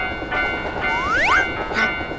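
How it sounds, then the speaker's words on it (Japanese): Animated train rolling toward a railway crossing in a children's cartoon, heard as a steady rumble with rising and falling whistle-like tones sweeping through the middle of the short stretch. "電車が来るから踏切はまだ渡るなよ"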